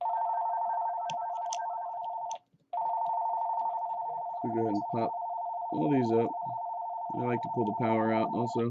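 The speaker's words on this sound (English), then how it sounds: "Please excuse the phone ringing in the background." A telephone rings steadily in the background with one short break, while someone talks over it as he works on a Kindle Fire tablet.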